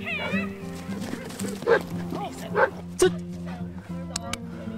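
Dogs at an outdoor training session in Denton, Maryland, giving several sharp barks and yips with whimpers in between, fairly close, while people talk over them.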